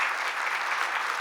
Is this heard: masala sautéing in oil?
no